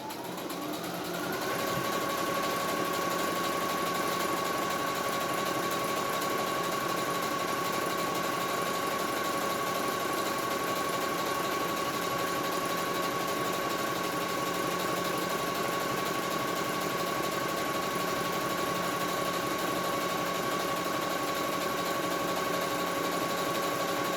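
A sewing machine runs continuously while stitching a face mask, a steady close mechanical whir with a constant high hum, starting after a brief pause and going on unbroken, no talk.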